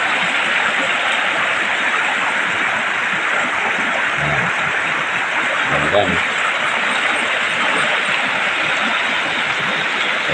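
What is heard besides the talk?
stream water flowing down from the mountain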